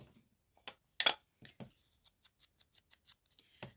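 Scissors snip through paper scraps, trimming away white edges: a few firmer cuts followed by a run of small, evenly spaced snips, close and quiet in a still room.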